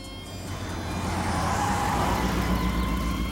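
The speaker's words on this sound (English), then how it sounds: "Big truck screeched to a short stop as Madeline arrived at the toy shop." A big truck brakes to a stop in a cartoon scene, its engine rumble rising and swelling with a brief grinding screech over about three seconds, heard alone.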